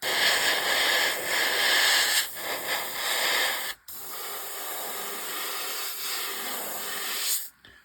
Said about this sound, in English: Let's grab something and quickly airbrush it.